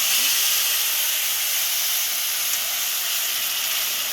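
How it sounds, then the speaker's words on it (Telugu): Tamarind pulp boils in a pan for pulihora, giving a steady, close, loud hiss with no pauses and no voices. "చింతపండుని కూడా బాగా ఉడకనివ్వాలి"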